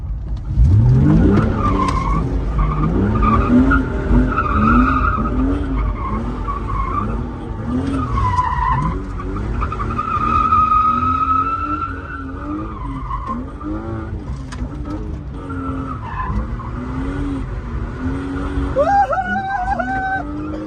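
A BMW E36 M3 with a limited-slip differential drifts sideways. The engine revs rise and fall loudly and up close, with continuous tire skidding and squealing across a long run.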